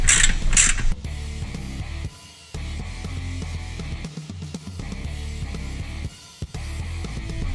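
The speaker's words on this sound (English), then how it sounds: "Now we have two clamps we need to loosen, one for each muffler" A 15mm socket wrench loosening exhaust muffler clamps on an Indian Scout motorcycle, close mechanical creaking and ratcheting in repeated strokes with short pauses between turns.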